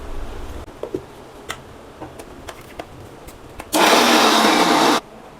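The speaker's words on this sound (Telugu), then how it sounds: "హాఫ్ బెల్లం హాఫ్ వేరుశనగ గుళ్ళు వేస్తున్నానండి. వేసి మిక్సీ పడడం జాగ్రత్తగా" A kitchen mixer grinder whirs loudly for just over a second while grinding a half-and-half load of peanuts and jaggery for laddu, preceded by quiet ticks and handling clicks.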